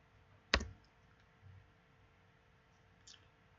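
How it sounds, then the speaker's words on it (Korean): A computer mouse gives one sharp close click, then faint soft clicks in a quiet room. "클릭, 클릭"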